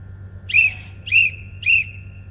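Three short, shrill whistle blasts in an even rhythm, each about half a second, used as a crane dogging signal, over a low steady background hum.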